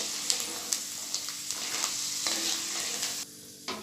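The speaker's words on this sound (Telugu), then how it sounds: "బుడ్డకారాలకి పప్పులు ఇప్పుడు వేయించుకుంటున్నాము ఆయిల్లో" Peanuts fry in oil for boondi with a continuous close hiss and sizzle, broken by sharp taps and stirring scrapes, the sizzle briefly dropping away near the end before resuming.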